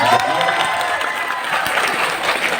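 Audience applause at a lively Indonesian religious gathering, a dense, steady wash of clapping with some crowd noise and cheering running throughout.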